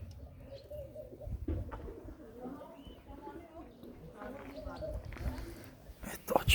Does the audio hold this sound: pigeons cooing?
yes